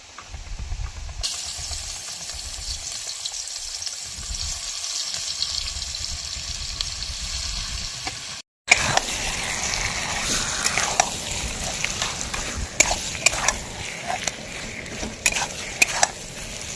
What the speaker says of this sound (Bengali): ম্যারিনেট করা মাংসটা দিয়ে দিচ্ছি কড়াইয়ে আমার তেলটা গরম হয়ে গিয়েছে